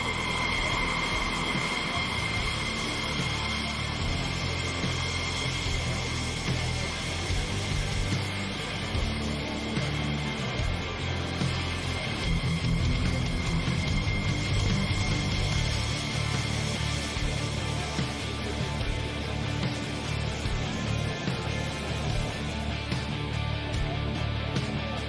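Bill Stein's aerobatic airplane flies a powered air show routine from about 1,500 feet, its propeller engine droning continuously and evenly at moderate distance throughout, with faint crowd and announcer-like background underneath.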